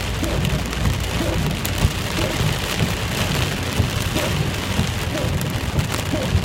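Heavy rain pours down steadily, a dense continuous hiss with drops pattering on surfaces close by, no voices.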